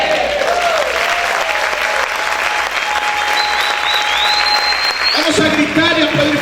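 A church congregation claps and shouts loudly in praise, a dense steady roar of applause and cheering with raised voices throughout, and a brief sung or shouted phrase rising over the crowd near the end.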